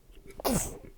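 A single sharp human sneeze bursts out about halfway through, close and loud, after a quiet room-tone lead-in, then trails off into breathy noise.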